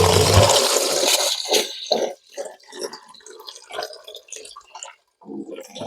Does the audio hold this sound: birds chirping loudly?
no